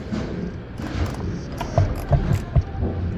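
A bolt is tightened on the frame of a Brunswick A/A2 bowling pinsetter: a close, steady mechanical ratcheting rattle with a few sharper clicks and knocks toward the end, with no talking.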